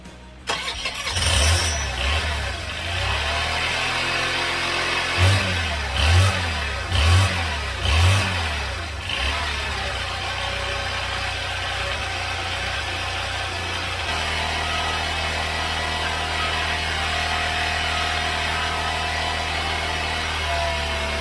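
A Honda Elite 80 scooter engine coughs and catches, gives a few sharp blips of throttle, then settles into a steady, close idle that runs on evenly alone.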